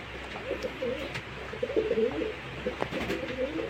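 Pigeons coo softly in short, repeated throaty phrases while pecking at feed nearby, a gentle irregular murmur with faint background hiss.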